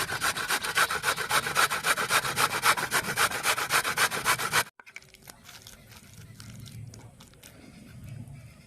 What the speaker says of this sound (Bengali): এই যে হাফের মতো যে গাজরটা নিয়েছিলাম এই গাজরটা ছিলে দিয়ে দেবো।